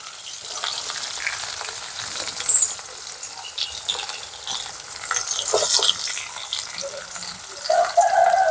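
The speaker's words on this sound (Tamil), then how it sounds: "இப்போ வந்து வெங்காயத்தையும் உருளைக்கிழங்கையும் முதல் போடுவோம்" Onion and potato fry in hot oil in a pan, a steady soft sizzle with occasional stirring scrapes and small bursts of crackle, close and continuous without speech.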